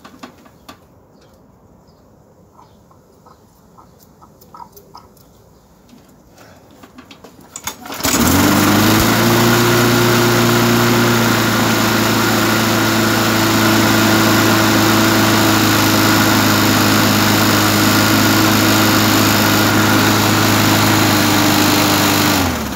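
A Briggs & Stratton 3.5 hp small engine with a freshly cleaned carburetor catches after a few quiet taps and rattles, then roars into a loud, steady, buzzing run that holds close by.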